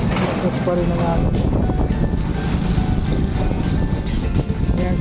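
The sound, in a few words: strong wind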